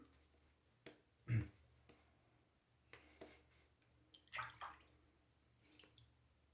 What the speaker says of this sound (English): Alright, I'm gonna add some more water here.